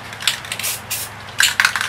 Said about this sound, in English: And I'm just spraying some fine mist over the white.